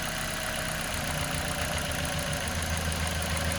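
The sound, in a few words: Toyota engine stumbling, nearly stalling after cylinder connector unplugged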